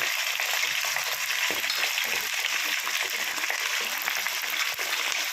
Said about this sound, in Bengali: আমি চিকেনগুলোকে প্রথমে ভেজে নেব চিকেনগুলো ভালো মতো ভাজতে হবে